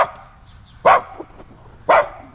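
A pit bull puppy gives two sharp, separate barks about a second apart, close and loud, with quiet in between.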